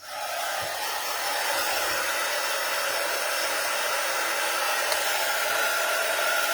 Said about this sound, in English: Grab the heat gun. Start to warm it up.